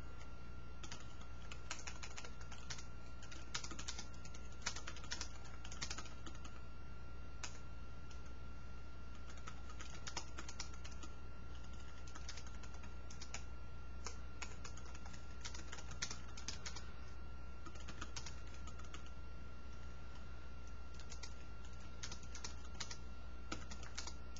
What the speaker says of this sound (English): So you see me typing this way but looking this way?